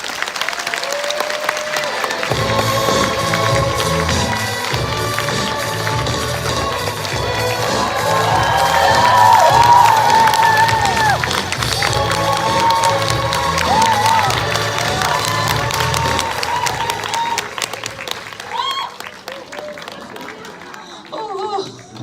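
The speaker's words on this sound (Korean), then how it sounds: "큰 박수 부탁드리겠습니다" A live-broadcast stage audience bursts into sustained clapping and cheers as Mamma Mia stage veteran Jeon Soo-kyung is welcomed on, loud and building before tapering off near the end.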